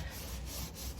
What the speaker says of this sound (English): I'm gonna start wiping some of this off